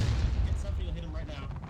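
Cannons fire in a War of Rights battle over a farm, with booming artillery and rattling gunfire in a dense, noisy mix, under a faint voice.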